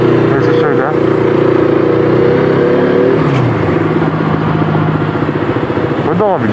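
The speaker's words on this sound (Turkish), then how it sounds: "Şu an zaten sesi alıyorsanız çok fazla egzoz sesi geliyor." A KTM 125 RC 125cc motorcycle with a modified exhaust runs close by, a loud steady engine drone with brief revs near the start and end, no talking.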